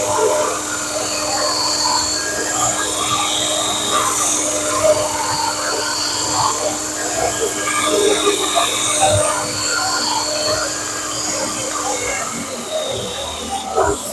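A rusty knife being restored, polished against a running sharpening belt, giving a continuous close, loud high whine and grinding hiss that holds steady for about twelve seconds before easing off.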